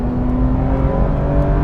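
A Porsche 911 GT3 RS engine holds a loud, sustained high-rpm howl on a drive up Jabal Jais, with a steady, even tone and no voices.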